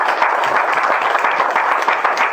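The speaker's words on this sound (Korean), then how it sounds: "여러분들 노가 많았는데 한번 박수 좀 보내드리겠습니다" A hall full of people claps steadily in sustained, dense applause honoring committee members at the founding general meeting of the Seoul Maritime Arbitration Association in the Korea Shipowners' Association auditorium.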